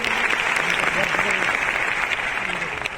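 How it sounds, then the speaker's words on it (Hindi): Loud, dense applause from a crowd filling a hall at a Safe Shop leaders' gathering in Babu Sabhagar Hall, Patna, steady throughout with faint voices mixed in underneath. "थैंक यू सर के लिए जोरदार ताली दोस्तों"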